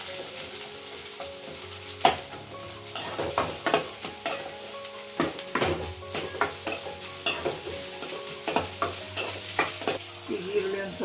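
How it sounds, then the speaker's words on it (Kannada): Onions fry in hot oil with a steady close sizzle, broken by repeated scraping stirs of a spatula against the pan at an uneven rhythm. "ಈಗ ಎಣ್ಣೆ ಬಿಸಿಯಾಗಿದೆ ಇದಕ್ಕೊಂದು ಸ್ವಲ್ಪ ಈರುಳ್ಳಿ ಹಾಕೋತಾ ಇದ್ದೀನಿ ಈರುಳ್ಳಿನ ಒಂದು ಸ್ವಲ್ಪ ಫ್ರೈ ಮಾಡ್ಕೋಬೇಕು"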